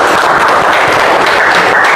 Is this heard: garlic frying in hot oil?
no